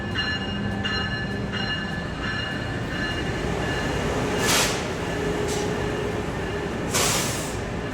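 An Amtrak Acela train pulls out of a station heading north toward Boston, rumbling and rolling steadily with faint wheel squeal and a couple of sharp hissing bursts.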